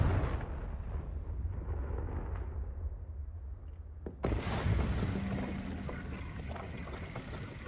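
Confringo fire spell in Hogwarts Legacy, a sudden loud blast bursting out of a low game rumble and leaving a sustained roaring wash behind it.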